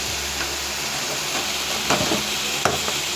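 Potatoes fry in a pan with a loud, continuous sizzle and a few scraping stirs, the hiss holding steady throughout.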